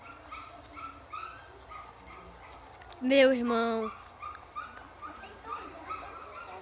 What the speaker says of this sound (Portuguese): meu cachorro ali latindo